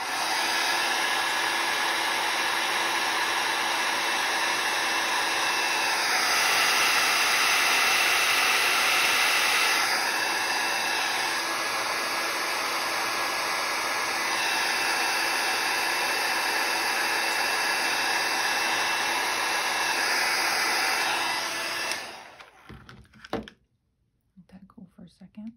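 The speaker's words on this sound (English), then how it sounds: "embossing gun again." An embossing heat gun blows with a loud, steady whooshing roar for about twenty seconds, then cuts off abruptly, leaving near silence with faint handling noises.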